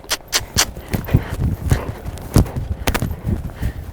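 A horse canters in a dressage session, with close, rhythmic clip-clop hoof beats falling in quick, uneven groups, fairly loud and continuous with no clear talking.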